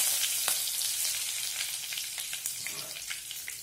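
Mustard seeds and curry leaves sizzling steadily in hot oil, with a dense crackle and scattered sharp pops from the seeds, close and fairly loud throughout.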